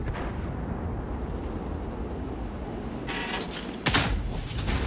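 Single heavy cannon blast from a 60TP tank in World of Tanks, a sudden loud boom near the end that follows a low engine rumble and some rattling.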